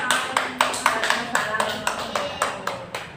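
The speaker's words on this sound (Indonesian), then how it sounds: "beri aplaus" A classroom group applauds after a small-group presentation, with about a dozen sharp, fairly evenly spaced claps over a low background, no one talking.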